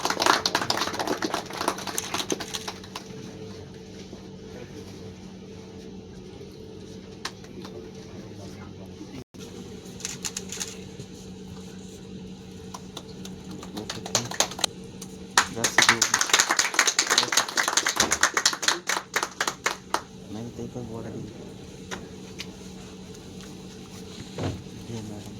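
Scattered audience clapping at a hospital awareness event for World Liver Day, swelling into a louder burst midway amid room chatter and voices, then thinning out again.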